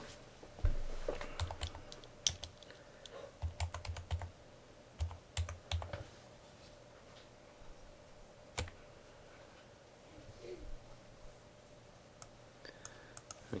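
Someone types a password on a computer keyboard to log into a server's logical partition: quiet, irregular bursts of key clicks with short pauses between them in a hushed room.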